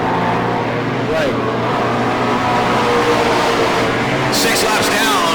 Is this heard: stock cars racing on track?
yes